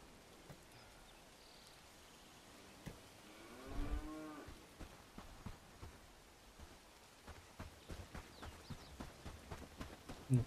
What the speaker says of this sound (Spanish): Las vacas, qué desgracia me han dado.